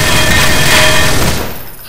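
A big gun in the game E.Y.E fires in a dense, loud continuous barrage of rapid shots that tails off toward the end.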